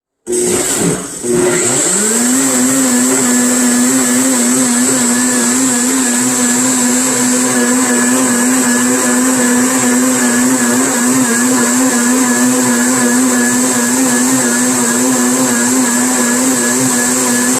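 A blender blending a purple yam latte whirs up to speed in the first second, then holds a loud, steady high-pitched motor whine that runs unbroken for a long stretch.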